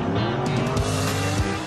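A classic muscle car revs hard and its tires squeal, a loud, close, sustained engine roar with skidding screech layered over it.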